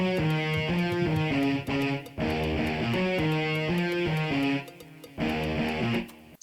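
Three layered, distorted electric guitars combined on a guitar bus play a dense, rhythmic riff from an Ogene-style cover of a song, loud and continuous with brief gaps between phrases.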